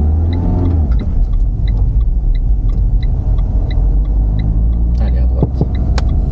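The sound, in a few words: manual car pulling away with learner driver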